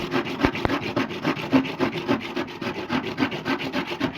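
A hand saw rasps through wood in quick, regular back-and-forth strokes, close and steady, with an occasional knock.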